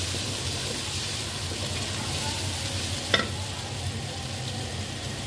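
Tomatoes are stirred into a dhokla mixture in a hot pan, with a steady sizzle of frying throughout, soft scraping of the stirring, and one brief clink partway through.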